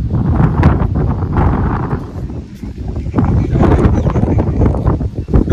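Strong outdoor wind buffets the microphone in loud, deep gusts that rumble and swell continuously, with rustling beneath.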